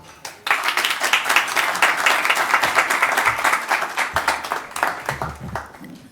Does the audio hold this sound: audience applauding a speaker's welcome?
yes